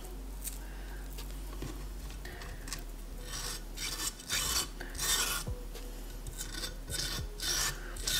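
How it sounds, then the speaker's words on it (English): Close, raspy scraping as gel is worked out of a halved aloe vera leaf, with repeated irregular strokes that grow louder and busier toward the end, over a low background hum. "cut aloe vera in half and scrape out the gel"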